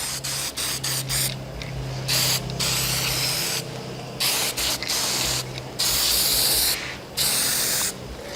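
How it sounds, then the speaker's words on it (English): Aerosol can of gloss black spray paint hissing in repeated bursts of one to two seconds, close and loud, with short pauses and a low mechanical hum underneath. "we're just going to use some good aerosol gloss black paint."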